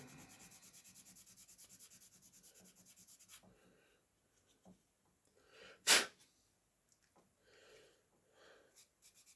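Sandpaper rasps over a 1/350 scale HMS Ark Royal model in quick rhythmic strokes for a few seconds, then a quiet stretch broken by a sharp loud burst and scattered faint scuffs.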